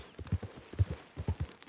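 Horse hooves clip-clop at a walk in the Red Dead Redemption 2 video game, a quiet, uneven rhythm of soft thuds sounding close, with no talk over them.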